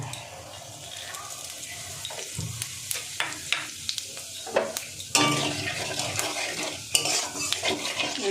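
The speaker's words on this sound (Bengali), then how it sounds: "এবার আমি ফোড়নে এই যে একটা শুকনো লঙ্কা নিয়েছিলাম, সেই লঙ্কাটা দিয়ে দেবো, আর দিয়ে দেবো গোটা জিরে।" A dried red chilli and whole cumin crackle and sizzle in hot oil with sharp clicks of a spoon against the pan; the frying grows suddenly louder and denser halfway through.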